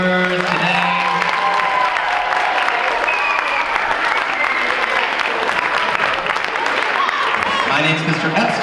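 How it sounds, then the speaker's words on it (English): At an elementary school winter concert, the audience gives student performers, including first graders, a loud, sustained round of clapping with a few cheers. Scattered voices and children's chatter rise through the applause, especially at the start and end. "one more round of applause for all of our student performers today"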